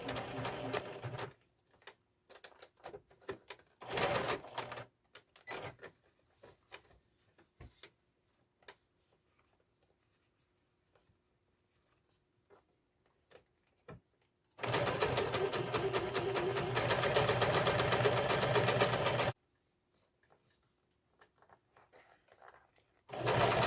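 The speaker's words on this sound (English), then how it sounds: "I am going to use my sewing machine and I am going to flat stitch around the perimeter" A sewing machine runs a flat stitch around the perimeter of non-woven fabric for a chair cover, with short rattling bursts early on and then one steady, close whirring run of several seconds before it stops.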